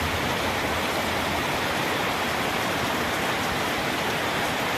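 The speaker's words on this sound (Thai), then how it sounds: "ฝนตกนะคะสดชื่นกันนะคะฝนตกนะคะฝนตกสดชื่นกันทั่วประเทศเลยนะคะ" Rain pours down steadily in Thailand, a dense, even hiss of falling drops that stays constant and fairly loud from start to finish.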